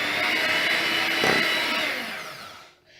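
Electric mixer running steadily through cookie dough of flour and salt, a continuous loud whir that fades and cuts off near the end, with no talking.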